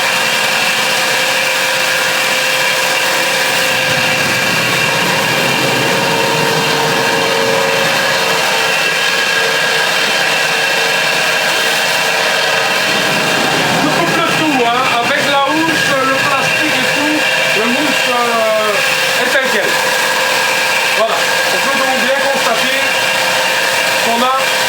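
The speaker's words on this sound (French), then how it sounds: "Chloé, tu peux mettre la machine en route s'il te plaît" A foam-cutting machine runs through a mattress, a steady whirring hum with a shift partway as the blade bites in, while people talk over the noise.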